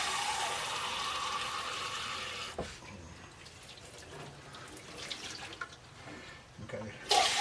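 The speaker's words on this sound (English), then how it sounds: "now let me get this thing rinsed off." Tap water runs hard for a few seconds while something is rinsed off, then cuts to quieter handling with light splashes and drips before a short burst of water at the end.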